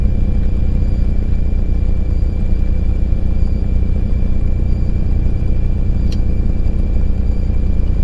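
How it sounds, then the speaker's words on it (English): Diamond DA40 NG light aircraft engine running up on the tarmac as the propeller cycles, a loud, steady rumbling drone held close and constant throughout, with no voices. "As the prop is cycling, the aircraft is basically going through all its different system check and engine checks"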